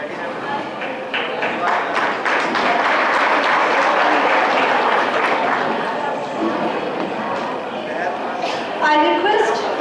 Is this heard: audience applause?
yes